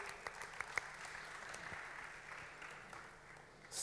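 Steady applause from an audience, a dense wash of many hands clapping at moderate volume with no other sounds.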